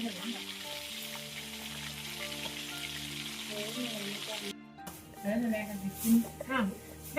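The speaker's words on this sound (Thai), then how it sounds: "ทอดปลาส้มนะ" Thai fermented fish (pla som) frying in hot oil: a steady, close sizzle that runs for several seconds, then drops away as people talk over clattering kitchen noise.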